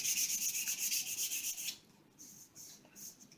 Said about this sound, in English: with this grit, you want to sand with the lay of the wood